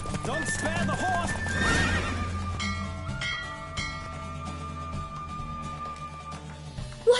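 A horse's hooves clip-clop at a brisk pace while the horse neighs in a horse race in the video game The Witcher, with game-like music and effects layered over it.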